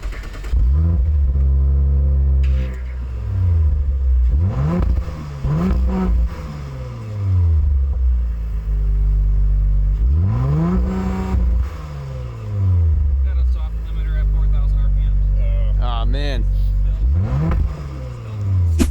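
Exhaust of an Audi RS5 with a V6 engine and oval tips, revving in repeated bursts that rise and fall, loud and close, with deep rumbling between blips and no talking.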